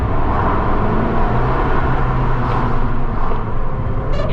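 Abarth car in standard 145 bhp mode driving along, a steady broadband engine and road drone heard from inside the car, constant and fairly loud throughout with no talk.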